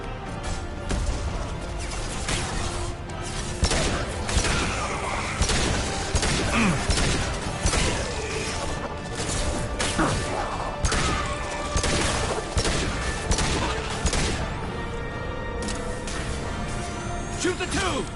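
Dense, continuous gunfire in Mass Effect 2, rapid overlapping shots and impacts over a loud combat din, with voices calling out amid the shooting.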